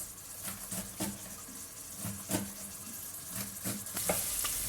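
Vegetables sauté in a pan with a continuous sizzling hiss, interrupted by rhythmic scraping stirs every half second or so, close and moderately loud, with no voices.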